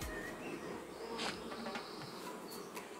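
Honeybees buzz steadily at a beehive during a spring inspection, a continuous close droning hum with occasional passing individual bees, no talk over it.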